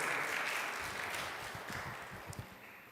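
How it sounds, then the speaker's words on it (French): A church congregation applauds during a multilingual Sunday service, a steady wash of clapping that holds fairly even and then slowly thins out over a few seconds. "Encore une bonne main d'applaudissements pour cette grande journée."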